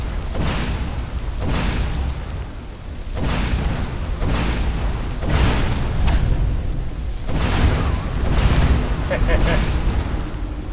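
Fire spells cast in Skyrim whoosh and burst in repeated loud blasts at irregular intervals, about eight in all, over a low rumbling background.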